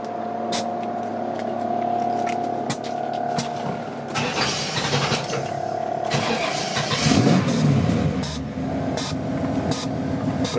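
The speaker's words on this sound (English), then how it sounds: "What you're hearing there is you're hearing the air compressors filling up the tanks." Air compressors on a 1948 Mercury Monarch coupe custom show hot rod run steadily as they fill the air tanks, a continuous mechanical hum and whir with a sharp hiss and clicks partway through.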